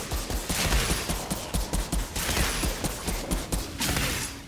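Pistol gunfire in the video game Outriders, a rapid string of sharp repeated shots in close, steady bursts without talk.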